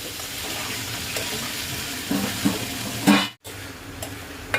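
Ridge gourd sautéing in a pan, a steady close sizzle with stirring scrapes and a brief clatter near the end, no speech.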